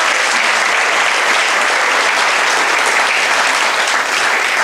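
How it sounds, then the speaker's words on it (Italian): Audience applause at a conference, a dense, steady clapping from a large crowd that stays loud and even throughout with no voices. "Penso che un applauso a loro vada fatto."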